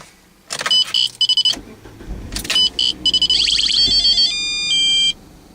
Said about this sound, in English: I know you may be wondering what that noise is every time I start the car up.